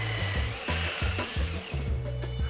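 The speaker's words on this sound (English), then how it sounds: "Drilling into brick makes a lot of fine dust, so make sure to always wear a dust mask." Power drill boring into a brick wall to a taped depth mark, a loud steady grinding whir broken by short repeated pulses as the bit bites into the masonry, close up and with no talking.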